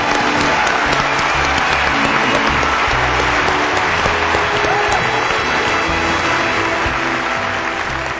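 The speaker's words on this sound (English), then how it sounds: "let's give our 6 charities and special guest presenters a round of applause" A large audience at an anniversary celebration gives charities and guest presenters a round of applause, loud, close and continuous clapping with some cheering mixed in, sustained without a break.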